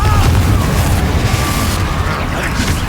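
A loud, booming spell explosion from the Confringo curse in Hogwarts Legacy rumbles heavily through the whole moment, with dense low-end blast energy and continuous crackling debris.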